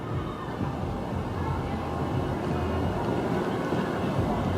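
A continuous low roar of the Mr. Freeze roller coaster train running on its track at Six Flags Over Texas, steady and fairly loud, with no clear voices.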